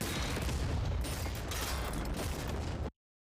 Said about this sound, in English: lots of big explosions here